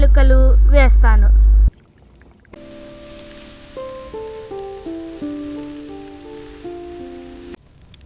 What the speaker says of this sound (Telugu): పాలు పోసి పాలల్లో టీ పొడి, కొద్దిగా అల్లం, యాలకులు వేస్తాను